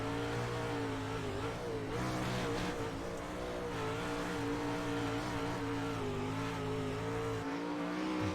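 Several race cars in an iRacing sprint series event at Limaland, with engines droning and whining loudly and continuously, pitch shifting slightly as they run close together.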